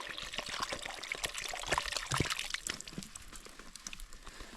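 Water pours steadily into a pot over a campfire beside a snowy lake for beef stew with a bouillon cube, a continuous close splashing trickle with no talk.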